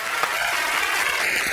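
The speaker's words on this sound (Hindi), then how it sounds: "रवीना के लिए पहले जोरदार तालियां" A steady wash of clapping from a large crowd at a Bollywood TV show, continuous and fairly loud throughout the short stretch.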